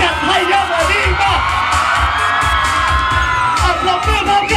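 A large crowd at an AIA event at Ton Tan Market in Khon Kaen, Thailand, screams and cheers continuously, loud and dense, with high-pitched shrieks and whoops rising over a steady roar throughout.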